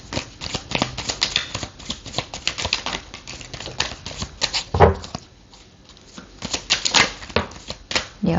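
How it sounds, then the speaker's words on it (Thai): A deck of tarot cards is shuffled thoroughly by hand, with dense, continuous riffling and flicking close up and a short pause partway through. "จารย์ขอสับไพ่แบบละเอียดละเอียดนิดนึงนะ"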